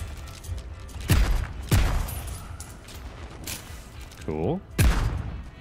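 Explosive-bullet gunfire in the video game Soulslinger: Envoy of Death: three heavy, booming shots spaced apart, loud and close, with someone talking briefly between them.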